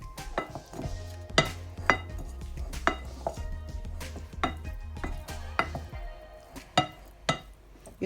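Pasta chips are tossed with smoked paprika in a bowl, producing a run of sharp clinks and knocks at an uneven rhythm over a low hum, close by and without any voices.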